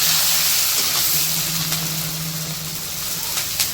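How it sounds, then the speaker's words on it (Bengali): Garlic, onion and green chili frying in oil in a wok, a steady close hissing sizzle with a low hum underneath, fading slightly and punctuated by a few sharper spits. "কড়াইয়ে তেল দিয়া রসুন পেঁয়াজ আর কাঁচামরিচ সব দিয়ে দিল"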